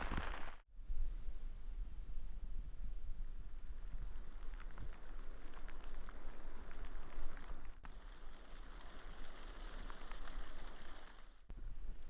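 Steady rain patters on a surface nearby at a camp in Iceland, a dense constant hiss with scattered drops, broken by a brief bump near the start.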